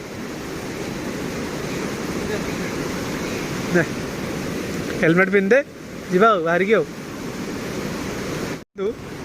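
Strongly flowing water rushes steadily close by outdoors, a continuous loud roar, while people talk over it partway through.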